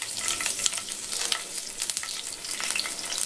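Green chilies fry in hot oil, giving a steady, dense crackling sizzle with quick pops throughout, close and continuous with no voices.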